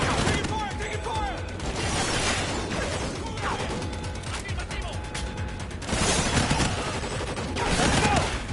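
Sustained gunfire in Call of Duty: Ghosts, a dense crackle of rapid automatic shots and impacts running throughout, loud and close, with shouted voices mixed in.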